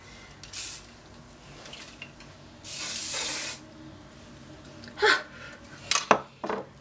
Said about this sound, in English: take your hairspray and just spray it everywhere